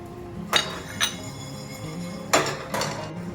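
Whole spices, coriander seeds, peppercorns, cumin, cloves, cinnamon and cardamom, dry roasting in a pan, with a few distinct metallic clinks and scrapes of a utensil against the pan, fairly close.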